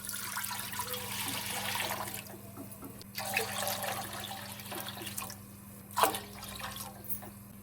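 Water from a tap or jug runs into a cooking pan as 2 to 2.5 litres are added for a chicken soup, a steady close splashing stream with brief breaks and a low hum underneath.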